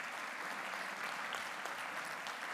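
Steady applause from newly registered dentists honouring senior colleagues at a professional oath ceremony in Viseu, a faint, even patter of many hands continuing throughout.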